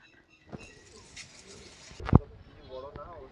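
Kalldam pigeons coo softly close by with a few low, rolling calls, alongside handling noises and a sharp knock.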